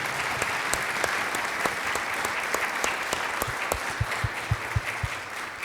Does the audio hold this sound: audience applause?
yes